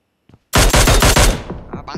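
An automatic weapon fires a fast burst in PUBG Mobile, about eight sharp close shots in quick rhythm after a brief click, then fading echoes and a couple of softer trailing pops.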